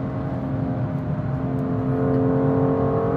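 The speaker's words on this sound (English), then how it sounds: "Now we come, little back straight, downshift to fourth. Keep cruising here, constant gas." A BMW M2 drives a track in fourth gear under constant throttle after a downshift, its engine a steady, close, even drone that builds slightly toward the end.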